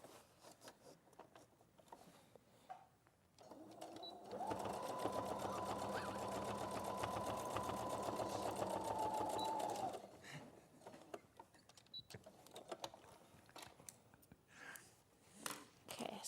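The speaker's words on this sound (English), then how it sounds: "Lining the seams together and then sewing across." A sewing machine runs steadily across lined-up fabric seams for about six seconds, a continuous near whirr that starts and stops abruptly, with quiet handling noises before and after.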